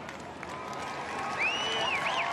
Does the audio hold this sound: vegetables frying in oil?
no